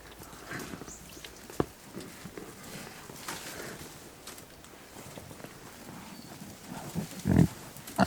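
Five pigs root around a homestead pen eating free apples, with scattered trampling steps, rustling and soft thuds, and a short snuffling grunt close by near the end.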